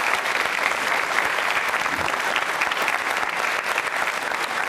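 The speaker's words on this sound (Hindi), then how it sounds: "तालियां जोरों से बजाइए आप" An audience at a school quiz show gives sustained, dense applause, loud and even throughout with no break.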